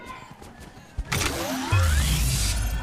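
Car in a mobile battle-royale shooter game: a door thud, then an engine starting and revving up, with rising whine and a steady loud drone, alone.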